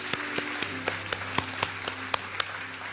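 A church congregation claps together in a steady, even beat during a worship service, about four claps a second, moderately loud in a reverberant room.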